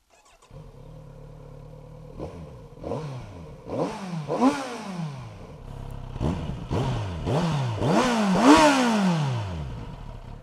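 A Kawasaki Z900RS motorcycle engine cranks and catches, then rises and falls through a series of throttle blips that grow louder and sharper, ending in a strong rev.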